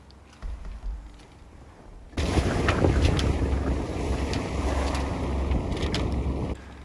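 A sailboat punches through choppy water heading out through the channel off Deganwy, with a dense, loud rush of wind and hull splash that surges in abruptly and holds steady before easing slightly at the end.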